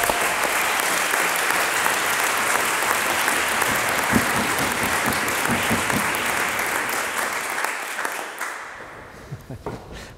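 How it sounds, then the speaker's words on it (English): A debate audience at the Oxford Union gives a long round of applause for debaters, thick clapping that holds for several seconds then thins to scattered claps and fades near the end, with faint voices underneath. "let's give our debaters another round of applause"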